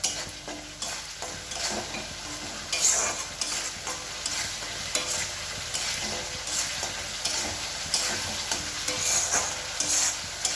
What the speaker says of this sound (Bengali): একটু গরম মশলা গুঁড়ো দিয়ে আবার কষাতে থাকবো